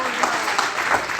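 A church congregation applauds, a dense steady wash of clapping that fills the whole moment at close range, with a voice speaking over it.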